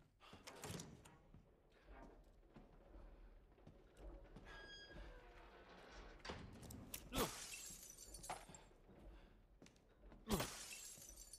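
Objects smash and shatter in Resident Evil Village, with several sharp crashes of breaking glass and wood, faint and spread out amid quieter game ambience.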